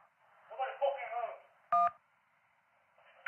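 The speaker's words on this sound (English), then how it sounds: "I want you to press the button on your phone for each person there who's threatening you" A single loud phone button beep in the 911 Operator video game, a sharp keypad tone heard after a caller's muffled voice, with another faint tone at the end.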